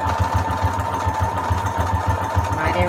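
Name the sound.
sewing machine stitching a long fishbone stitch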